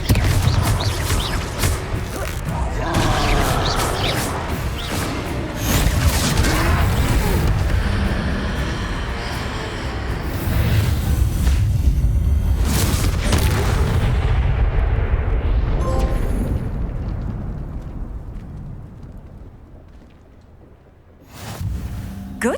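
Confringo fire spells blast during a troll fight in Hogwarts Legacy on PS5, a long stretch of dense, loud booming and roaring rumble that thins out near the end before one last burst.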